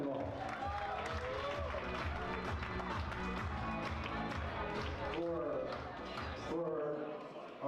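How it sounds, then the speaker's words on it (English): Wedding reception guests applaud over a busy, loud room, with steady clapping mixed with chatter and voices throughout. "How about another round of applause for the groom's brother and sister-in-law?"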